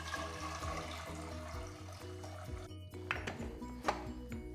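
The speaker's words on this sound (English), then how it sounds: "Pour 4 to 5 cups of water." Water poured into a pressure cooker holding drained black chickpeas and salt, a steady liquid rush running under loud background music.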